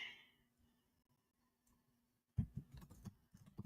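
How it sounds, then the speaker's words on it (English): Typing on a computer keyboard comes in as a short burst of soft, quick clicks after a stretch of near silence, faint and close, with no talking. "as I'm typing"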